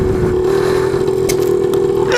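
A DS100 motorcycle ridden while leaned far over, its engine holding a steady, loud mid-pitched drone with wind rush and a couple of faint clicks, with no talking.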